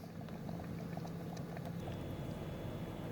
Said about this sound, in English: I don't know if you can hear it bubbling. Listen to that bubble.